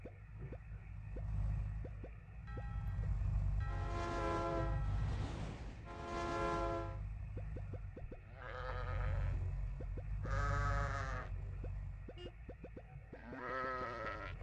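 Sheep bleats from the Crossy Road video game, several drawn-out calls in separate bursts over a steady low rumbling game background, with no talking.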